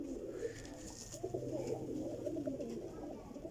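Fancy flying pigeons, including a Teddy and Kasuri cross, coo softly and repeatedly in a close, continuous murmur.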